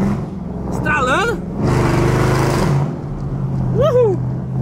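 Camaro V8 engine rumbling and revving hard in a loud, steady burst, its exhaust awaiting welding, with an excited voice shouting over the engine at the start and end.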